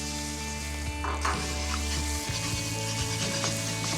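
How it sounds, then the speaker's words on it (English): Two eggs are whisked in a hot stir-fry pan, a scraping, stirring rattle over steady sizzling, close and fairly quiet. "Whisk up the eggs. And give that a really good whisk."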